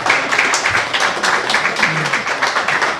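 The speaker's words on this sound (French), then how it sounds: "Vous pouvez recommencer les applaudissements" A live audience applauds at PodRennes 2018, a podcast event in Rennes: steady, close, sustained clapping from many hands for the whole stretch, with no talk over it.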